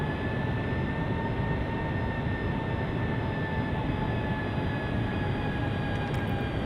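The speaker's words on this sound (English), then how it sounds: "Gears coming down, that'll help with the drag as well and bring our speed down." Steady, even engine roar with faint whining tones from a Boeing 757-300 in the FSX flight simulator as the landing gear lowers on approach, a constant drone with no distinct clunk, and no talking.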